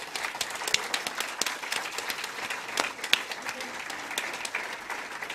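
An audience applauds at a German award ceremony for free knowledge, giving sustained, fairly dense clapping in a hall that is moderately loud and steady throughout.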